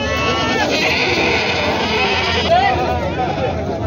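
A goat bleats at a busy outdoor goat market in Vasmat, a wavering cry rising over constant crowd babble and engine noise, with people talking close by throughout.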